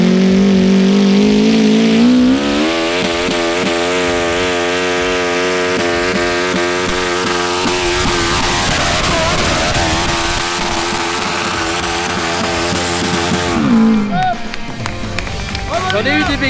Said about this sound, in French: Double moteur de 1100 GSX-R pour les connaisseurs Suzuki.